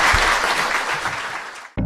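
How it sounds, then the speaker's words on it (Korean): A studio audience at a Korean current-affairs talk show gives loud, sustained applause that fades a little, then cuts off abruptly into a brief different sound. "박수 부탁드립니다"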